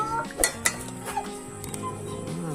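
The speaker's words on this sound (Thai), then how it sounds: "ผมก็ตักใส่ชามได้เลยนะครับผม" Northern Thai curry being ladled into a bowl, heard as a few sharp clinks of a utensil against dishes, close and fairly quiet over a low kitchen hum.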